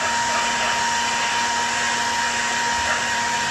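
A handheld blower or heat gun warms a car window sticker to soften it for removal, giving a steady, loud, continuous airy roar with a constant motor hum throughout and no talking.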